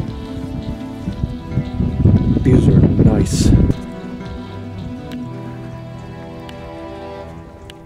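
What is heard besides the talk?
marble-sized hailstorm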